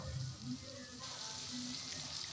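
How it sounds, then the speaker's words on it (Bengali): Chopped tomato and onion sizzle softly in hot oil in a pan while being stirred, a steady faint frying hiss with light scraping. "তারপরে কাটা যে টমেটোটা ছিল পেঁয়াজের মধ্যে দিয়ে দিলাম, নাড়াচাড়া করছি।"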